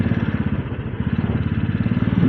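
A Royal Enfield Classic 350 motorcycle ridden through traffic gives a close, steady, rhythmic single-cylinder thump at low revs that continues without pause.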